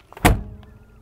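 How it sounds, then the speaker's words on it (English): A 47-year-old Mercedes car door swung shut, giving a single solid, deep thunk that is close and loud, with a short low resonance fading away afterward and no voices. "listen to the noise it makes when you shut the door"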